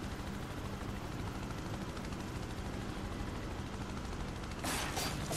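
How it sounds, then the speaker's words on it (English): A military helicopter in the action game Prototype drones with a steady, loud rotor roar throughout, joined by a brief burst of harsher noise near the end. "To move the chopper."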